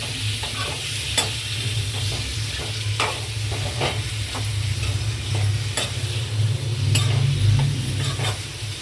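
Chicken is stirred and fried in oil in a pan, a steady close sizzle broken by repeated scraping and clanking strokes of a spoon against the pan, with no talking.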